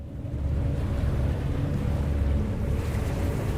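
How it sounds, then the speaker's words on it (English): Steady rushing water in the survival horror video game In Sound Mind, a dense, even roar with a strong low rumble that continues unbroken and close for the whole stretch, with no voices over it. "We're hearing rushing water."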